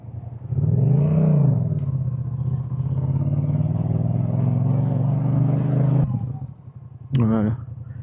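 A first motorcycle hums steadily while riding, with a low engine drone that swells and eases across the run, then drops off, followed by a brief rev. Someone talks over the engine.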